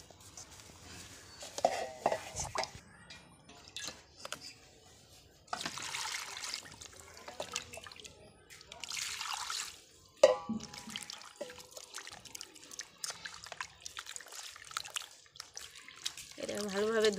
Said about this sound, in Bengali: এটা ভালোভাবে ধুয়ে নেব পানি দিয়ে